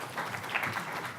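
Scattered clapping from a small tech conference workshop audience, moderately loud and steady throughout, with no voices standing out.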